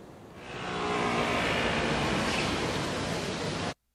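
Airplane roar fades in quickly and holds as a loud, broad, steady rush before cutting off abruptly, with no talking.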